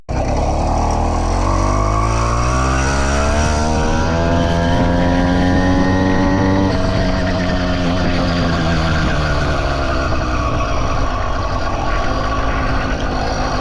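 A 100cc two-stroke engine on a motorized bicycle buzzes loudly and continuously while riding, its pitch climbing steadily through acceleration, then dropping and climbing again in a high, raspy drone.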